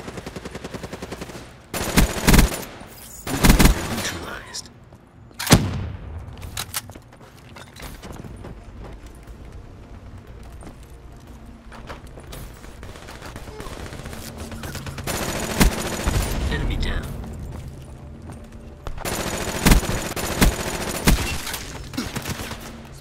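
Rapid bursts from the Ripper weapon in a Call of Duty match, with several loud, clustered automatic volleys separated by quieter stretches of game noise, close and punchy.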